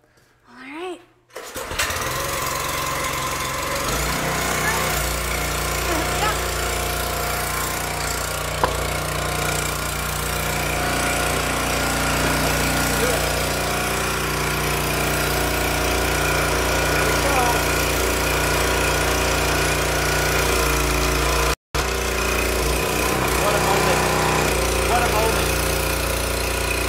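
A 27-ton log splitter's 196cc gas engine starts and runs at a steady, loud, close drone, with a brief cut near the end and voices speaking over it.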